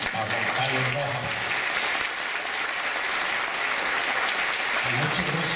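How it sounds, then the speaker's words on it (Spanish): A crowd at a school's inaugural ceremony applauds in a loud, dense, steady roar of clapping that lasts the whole stretch, with a voice faintly heard near the start and end. "démosle un aplauso a Juan Carlos Rojas"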